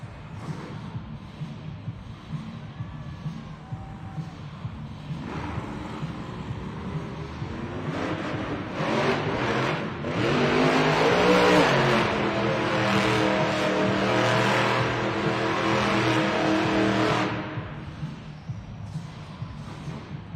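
Monster truck Monster Mutt Rottweiler roars through donuts at a Monster Jam arena event in Las Vegas, its engine swelling to a loud sustained rev midway over constant crowd noise, then easing back.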